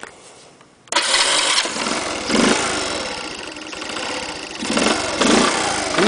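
Honda C70 motorcycle engine starting on a cold day, catching abruptly and settling into a steady, close idle with small surges in revs, loud and alone.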